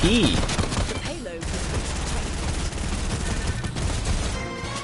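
Fortnite gunfire, including shotgun blasts, rattles in a loud, dense burst of rapid shots and impacts that carries on steadily for several seconds.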